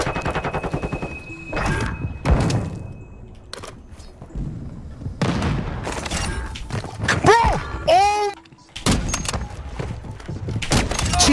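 Gunfire in Call of Duty: Modern Warfare 2, with several sharp shots and bursts scattered among game effects and sweeping electronic tones, heard under steady player talk.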